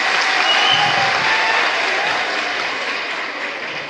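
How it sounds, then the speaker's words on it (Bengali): An audience at a gathering in Bogura applauds, a loud, dense, sustained clapping from a large crowd that slowly fades. "কাজে বগুড়ার জন্য এবার একটা হাততালি"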